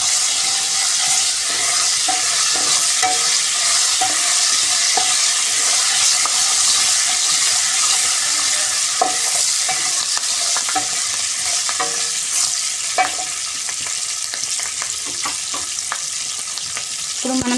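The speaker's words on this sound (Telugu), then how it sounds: "కొంచెం కరివేపాకు, పచ్చిమిర్చి వేసి కొంచెం వేయించుకున్నాం." Curry leaves and green chillies fry in hot oil in a pan, giving a loud, continuous sizzling hiss with scattered scraping stirs close by.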